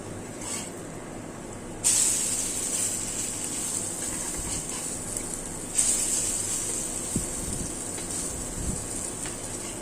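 Lentil fritters frying in a pan on a stove give off a steady oil hiss and sizzle throughout, with brighter bursts of spitting as more batter goes in.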